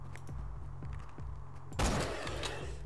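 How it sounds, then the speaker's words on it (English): A sniper rifle fires once in Borderlands 2, a sudden loud crack with a rumbling tail over steady background game music. "Oh yeah, let's just snipe him."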